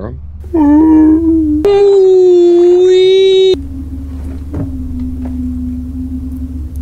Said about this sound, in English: Whales down there. Want to hear them?